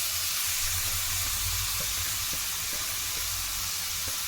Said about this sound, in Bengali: গাজর তো খুবই নরম, তাই জন্য ঘিয়ে ভালো করে ভাজতে হবে।